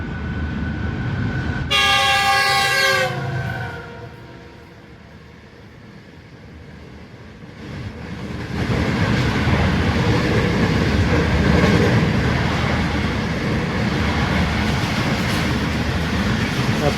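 The Jaffer Express train arrives at a station in Pakistan, sounding a loud horn blast, then its wheels and carriages roll past in a growing, steady rumble and clatter.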